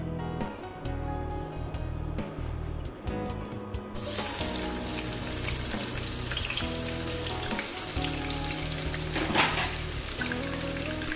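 Onions frying in oil in a pan for matar pulao, a steady loud sizzle and crackle that swells once the onions go in and carries on unbroken, with no talk.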